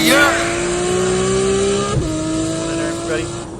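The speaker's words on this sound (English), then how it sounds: "this is my 1997 Nissan 240." A 1997 Nissan 240SX street car with a 2JZ engine swap and over 1400 horsepower drives past with a steady, droning engine note, and a voice talks over it.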